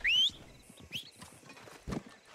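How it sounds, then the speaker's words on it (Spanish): In Red Dead Redemption 2, a horse whinnies briefly and its hooves clip-clop near the camera, with faint soft clatter and a dull thud toward the end, no talk over it. "Mi caballo va a venir antes, José, que lo sepas"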